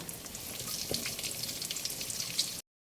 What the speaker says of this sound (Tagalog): lalagay na po natin yung garlic kasi magsusutay na po tayo